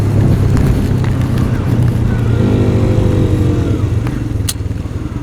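A Royal Enfield Himalayan motorcycle being push-started on a monsoon ride in Kodaikanal, giving a loud, continuous low rumble throughout that fades slightly toward the end.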